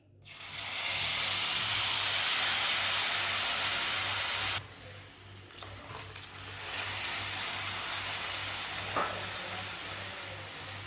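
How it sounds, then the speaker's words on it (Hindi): Water poured into very hot ghee with lentils bursts into a loud, bright sizzle lasting about four seconds, then drops abruptly to a softer bubbling hiss, with no talking. "इसमें 2 प्याली पानी डालेंगे।"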